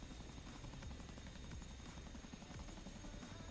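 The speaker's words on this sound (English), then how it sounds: "Let's see what Chinook is planting here next to the railways." A Chinook helicopter in a multiplayer military video game gives a steady, dense rotor drone with a rapid chopping pulse, continuous and moderately loud with no talk.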